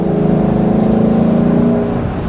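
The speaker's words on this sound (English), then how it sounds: "this 5-liter V8 just has so much character" The 5-liter V8 of a 2023 Lexus LC 500 revs loudly and close, a deep, throbbing engine roar that holds steady and then eases off slightly at the end, with no talking.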